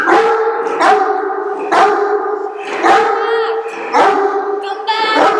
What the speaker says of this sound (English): Are you a sad doggy?